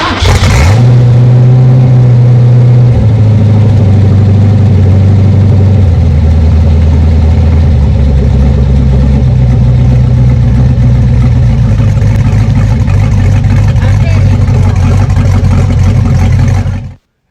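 A small-block Chevy V8 swapped into a Nissan Hardbody D21 pickup fires up and idles loudly and steadily up close, with a deep rumbling note and a few revs early on, and no talking.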